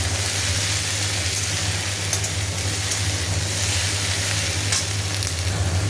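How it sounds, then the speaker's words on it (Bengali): Fish frying in hot oil with cauliflower, potato and green chilli gives a loud, steady, dense sizzle that runs unbroken throughout, close up and with no talking. "দিয়ে ভালো করে একটা ভাজা ভাজা হবে একসাথে ফুলকপি আর আলু আর লঙ্কাও দিয়ে দিয়েছি"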